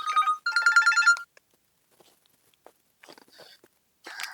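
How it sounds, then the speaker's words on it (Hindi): A telephone rings indoors in a home: two close, bright ring bursts at the start, a quiet gap with faint small noises, then another ring at the end. "ये किसका फोन बाजा, कई बार बाज लिया।"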